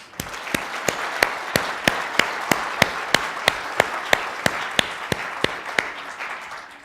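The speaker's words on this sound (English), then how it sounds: "But please give them a round of applause." A crowd at a healthcare summit's closing remarks claps in unison, loud rhythmic hand claps landing in a steady beat about three per second over a softer layer of scattered clapping.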